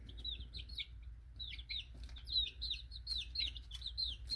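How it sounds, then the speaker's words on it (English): Eight baby chicks on a homestead peeping in quick high repeated chirps, close and steady, over a low background hum. "I got 8 baby chicks."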